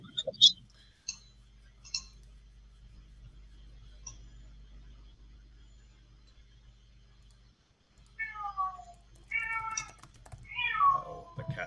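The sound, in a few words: domestic cat meowing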